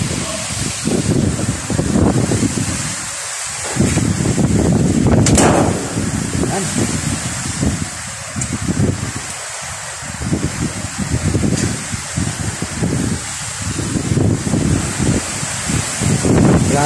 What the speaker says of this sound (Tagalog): malakas yung hangin, malakas yung ulan